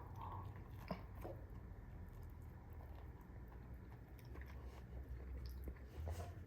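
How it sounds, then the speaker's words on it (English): Close, soft chewing and biting of a fibrous East Indian mango, with wet squishing and light crunches in an irregular rhythm over a low background rumble, with no talk. "I can chew it and break it in half."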